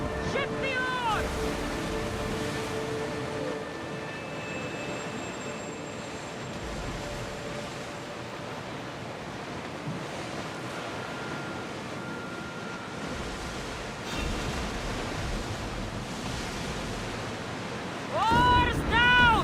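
A ship at sea in Assassin's Creed Odyssey pushes through open water, with steady wave wash and wind rushing under faint game tones, and a sharper burst of sound near the end.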